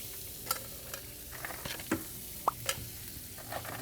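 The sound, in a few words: jalapenos browning in butter on a griddle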